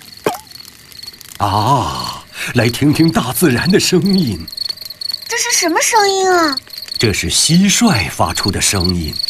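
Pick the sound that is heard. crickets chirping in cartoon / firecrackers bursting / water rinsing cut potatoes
crickets chirping in cartoon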